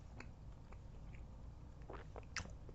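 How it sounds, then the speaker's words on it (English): Someone chews a mouthful of bread spread with Branston small chunk pickle close to the mic, soft wet mastication with a few crisper bites near the end, no talking. "You hear me chewing."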